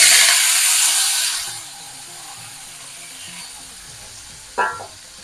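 Mustard seeds, urad dal, curry leaves and plantain hit hot oil for a plantain curry, setting off a loud broad sizzle that quickly dies to a low crackle, with one sharp clank near the end.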